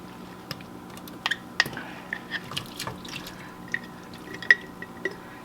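Liquid draining from a jar of canned green beans: irregular small drips and splatters with wet squishy clicks, fairly close and quiet over a low background hum.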